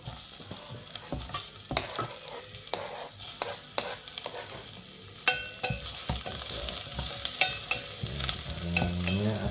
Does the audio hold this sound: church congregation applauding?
no